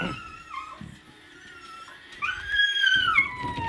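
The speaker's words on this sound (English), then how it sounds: "Oh, my dog's whining." A dog gives high, drawn-out whines, one short whimper early, then a louder wavering cry that rises and falls over the last two seconds, heard close with a quiet indoor background.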